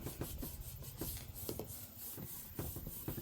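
A glued paper piece is rubbed down by hand on a glue book page, making soft, close, rhythmic rasping strokes that repeat at a steady pace and stay quiet throughout.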